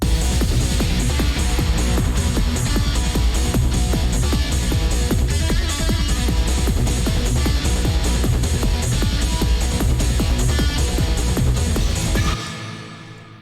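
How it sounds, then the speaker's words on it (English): Electronic battle theme in the style of Shin Megami Tensei III, a dense, driving synth track with punchy rhythmic beats throughout that cuts off abruptly near the end. "I made this battle theme inspired by Shin Megami Tensei III"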